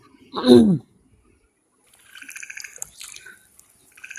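Young native snakehead fish fry taking food from a hand in water: a brief low splash at first, then after a pause a run of light watery flicks, drips and tiny splashes, close and fairly quiet.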